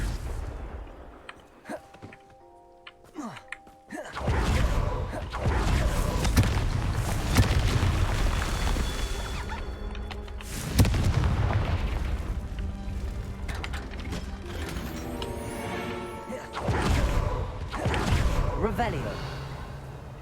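Confringo explosive spell in Hogwarts Legacy, bursts of booming impacts and mechanical crashing after a quieter opening, repeated several times amid game noise, with a voice speaking between casts.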